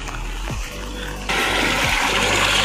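Water rushes and gushes across rain-flooded farm fields, loud and close, with a steady wash that gets stronger partway through and a low rumble beneath.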